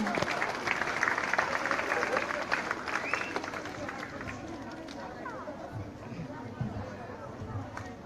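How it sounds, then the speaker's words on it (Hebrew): A school audience applauds a student for outstanding behaviour, a rapid patter of many hands clapping at moderate distance, loudest in the first few seconds and fading into crowd chatter and movement. "מגיע להם מחיאות כפיים"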